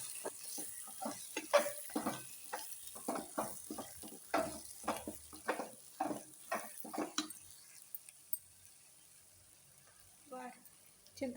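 Masala for a dondakaya curry fries in a pot while a spoon stirs it, giving a run of rhythmic scraping strokes over a soft sizzle that thin out near the end, with brief talk.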